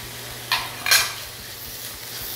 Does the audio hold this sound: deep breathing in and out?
no